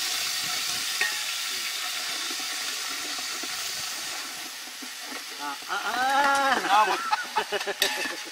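Crab gravy ingredients, mole crab masala, splutter and sizzle in a hot pan over a village cooking fire, a steady crackling hiss throughout with people talking loudly over it toward the end.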